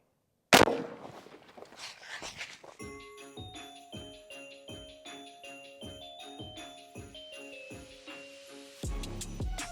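An Umarex Primal 20 gauge airgun shotgun fires one sharp, loud shot at a turkey target after a moment of silence, followed by a run of ringing, tinkling tones that fade into rhythmic chiming.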